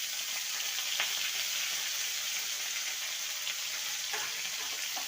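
Slices of bitter gourd fry in hot oil with a pinch of turmeric and salt, giving a steady, dense sizzle throughout with a couple of faint clinks from stirring.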